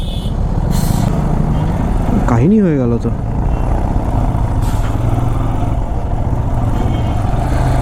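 Idling and creeping vehicles fill a jammed highway toll gate on a dark, foggy evening, a steady low traffic rumble with a passing horn-like rising tone; a voice speaks briefly over it.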